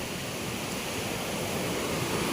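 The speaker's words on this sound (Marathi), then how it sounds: "हे बघा व्हाळाला एवढं पाणी आहे" Rain-season stream water rushes in a continuous broadband wash, steady and fairly close, with no talk over it.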